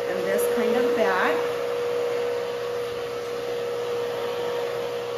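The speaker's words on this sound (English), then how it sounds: "just gonna dry this over the ear, towards her face a little bit" Steady whirring roar of a handheld hair dryer blowing on a woman's short pixie cut with shaved undercut, continuous and close, with someone talking briefly at the start.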